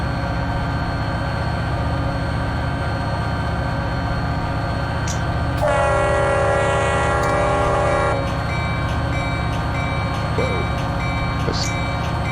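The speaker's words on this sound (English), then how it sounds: "Once we blow for this crossing" CSX SD40-2 locomotive in Run 8 Train Simulator, with a steady engine and rail rumble and a loud sustained horn blast of a few seconds for a crossing midway through.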